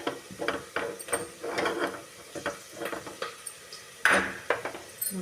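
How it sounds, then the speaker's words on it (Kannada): Vegetables for a vegetable pulav go into a pan with onions, giving a series of irregular clatters, scrapes and stirring knocks, louder at one point midway through. "ಇವಾಗ ತರಕಾರಿ ಹಾಕೊಳಕತ್ತೀನಿ"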